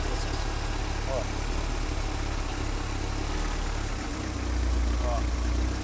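A car engine with LE-Jetronic fuel injection idles steadily, a low continuous hum that dips and then rises slightly near the end as the temperature sensor is handled.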